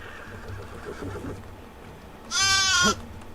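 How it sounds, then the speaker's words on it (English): A sheep in Medieval Dynasty lets out one loud, wavering bleat near the end, clear and close over a quiet outdoor background. "So I just punched the sheep for no reason."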